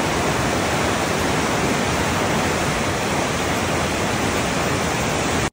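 Loud, dense rushing of a river current flowing beneath a bridge, a steady broadband roar of water with no pauses and no voices over it.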